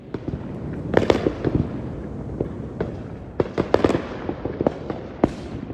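Firecrackers crackle and pop in irregular bursts, sharp cracks clustering in quick runs over a rough background rumble, some shots louder and nearer than others.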